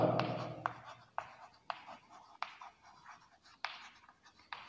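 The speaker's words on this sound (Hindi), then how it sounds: "चलिए अब नीचे हम लिखते हैं बेटा" A pen scratches across paper while writing out a job application letter, in short strokes with small regular taps, close and fairly quiet, with a faint voice at the very start.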